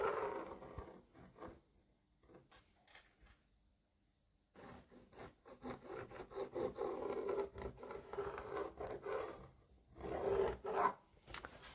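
Marking out bias strips 3.8 cm wide on fabric by hand, with soft, intermittent rubbing and scraping strokes of a marker or chalk, pausing in between and growing busier toward the end, no talking.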